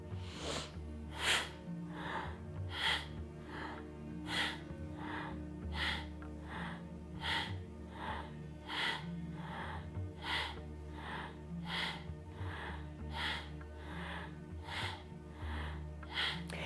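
Slow, rhythmic breathing during a Kundalini yoga practice, a series of soft, close inhales and exhales repeating at an even pace for the whole stretch, with no talking.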